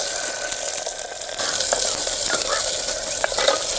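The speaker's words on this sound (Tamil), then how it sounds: "கடுகு பொரியுது." Mustard seeds spluttering and crackling in hot oil for a South Indian village greens kuzhambu, a steady broadband sizzle with scattered sharp pops growing slightly louder partway through.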